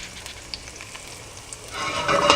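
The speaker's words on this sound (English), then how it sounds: "let this garlic do its thing for just about 10-15 seconds. Not long. Just want to sort of roast it a little bit. And my oil is pretty hot." Garlic sizzling in hot oil in a pan, a steady crackling fry with small pops that swells louder toward the end, no voices.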